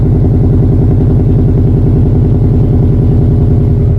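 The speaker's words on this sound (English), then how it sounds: "with this exhaust, it has a very, very nice chop to it" A car exhaust with a deep, Subaru-like choppy burble, loud and close, runs steadily with a pulsing low rhythm throughout, no talk over it.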